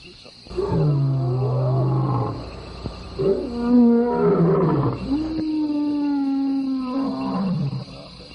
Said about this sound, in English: The unmistakable roar of another hunter. The African lion travels across the water.